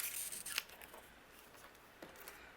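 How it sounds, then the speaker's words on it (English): Scissors snipping thin strips of leftover craft foam: a few quiet, close cuts, sharp snips near the start and again toward the end, faint and alone. "I'm going to cut some thin strips."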